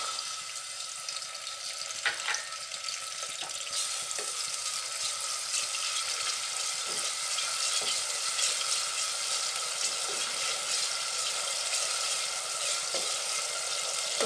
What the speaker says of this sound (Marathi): त्यानंतर मी तेलामध्ये टोमॅटो घालणार आहे